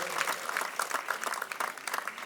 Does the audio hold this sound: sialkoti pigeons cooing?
no